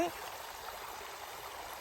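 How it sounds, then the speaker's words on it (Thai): A forest stream flowing over a small dammed weir, a steady close rushing and trickling wash that runs evenly through the short moment, with a brief voice at the very start. "แต่เราอยู่ตรงที่ที่มีลำธารมันก็จะได้ความสดชื่น"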